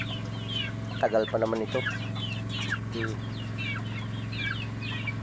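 Chickens cluck and squawk close by in a loud, busy coop, with someone talking briefly over the birds and a steady low hum underneath.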